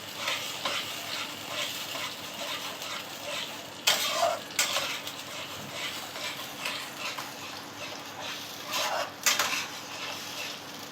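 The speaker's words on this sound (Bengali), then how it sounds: "দু মিনিট এটাকে নাড়তে হবে।" Food is stirred in a pan while cooking dhokar dalna. A low, even sizzle plays throughout, with several louder bursts of spatula scraping against the pan. No speech.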